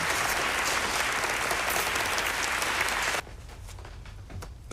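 A group applauds loudly in a steady dense burst for about three seconds, then it cuts off abruptly to a much quieter background.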